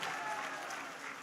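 An audience at a women's townhall meeting breaks into a brief burst of steady, dense clapping, moderately loud and filling the whole moment without other sounds on top.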